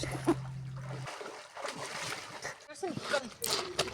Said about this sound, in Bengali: কনকনে ঠান্ডায় কিভাবে যে সাঁতার কাটছে